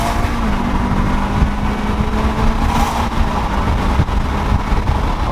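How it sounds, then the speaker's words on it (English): A supercharged car pulls hard while the engine roars loudly and steadily from inside, with a rising tone from the supercharger carrying through the run. "The Supercharger is so insane."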